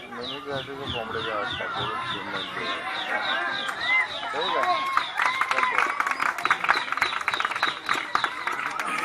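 Chickens and newly hatched chicks in a village, a busy chorus of high chirps and clucks running throughout, fairly close, with speech and other noise mixed in.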